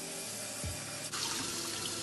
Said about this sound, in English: I rinse my rice off before I actually cook it.